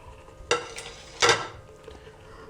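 Large tomato pieces and onions are stirred into a chicken butt karahi over a low background sizzle. Two distinct, close scraping strokes of a spoon against the pan stand out, about a second apart.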